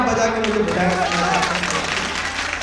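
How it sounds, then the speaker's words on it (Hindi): Audience clapping at a mushaira and kavi sammelan poetry recital in Biswan, a broad, steady wash of applause running throughout, partly covered by a voice talking over it. "जोरदार तालियां आप बजा के मुझे बताएंगे"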